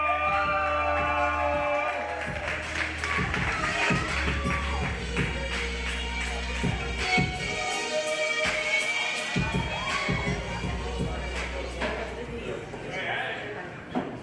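Open mic night crowd cheering, whooping and clapping loudly, with shouts and voices over music playing underneath, continuing throughout.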